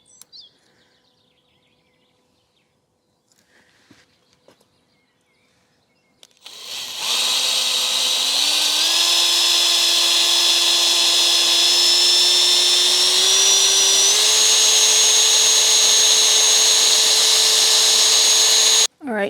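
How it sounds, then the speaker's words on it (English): Quiet rustling, then a power drill starts and grinds steadily into an old stone wall for about twelve seconds, its pitch stepping upward as it bites in, loud and close. "Try and find a bit of mortar to drill through rather than the stone."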